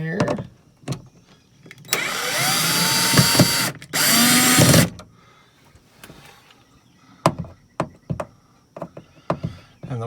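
A power drill whirs in two sustained bursts while undoing the screws on an RV roof fan, followed by scattered clicks and knocks of handling on the roof, close and loud.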